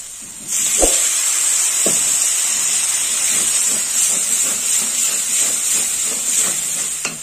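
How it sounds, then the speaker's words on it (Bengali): Water sprinkled into a hot pan holding poppy seed paste with cauliflower, bursting into a loud, sustained steamy hiss and sizzle with a few clacks of a spoon, close and without talk. "একটু জলের ছিটে দেবো"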